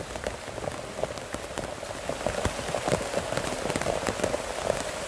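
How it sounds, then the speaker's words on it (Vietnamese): Heavy rain falls in a forest, a steady dense patter of drops on leaves and ground, close and continuous throughout. "Anh thì đang mưa khó đi lắm."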